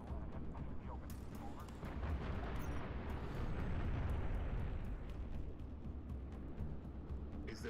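Missile explosions in Halo: Reach form a dense, rumbling wash of blasts and booms, loud and continuous with sharper cracks on top, and no clear talk over them.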